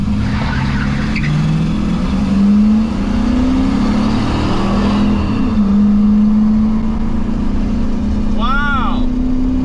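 A car accelerates hard in a drag race between vehicles from a personal collection, its engine roaring loud and close with a rising tone as it pulls away, and a brief tire chirp near the end.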